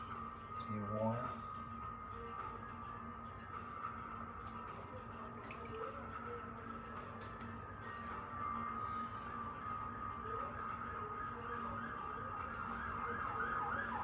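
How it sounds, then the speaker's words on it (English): An ambulance siren passing at a distance, a faint steady wail running under an indoor live stream while people talk over it throughout. "Was that an ambulance?"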